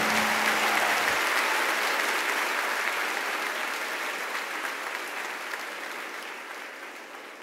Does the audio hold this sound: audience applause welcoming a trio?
yes